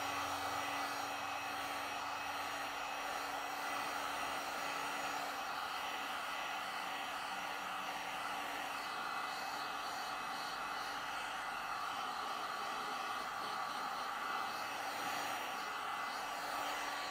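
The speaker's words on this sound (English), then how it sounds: "You can speed things up, good friends. And you can do that with a heat gun, speed up the curing process." A heat gun blowing over a freshly applied acrylic tire coating to speed curing, a faint, steady, airy whir that continues unbroken with no talking.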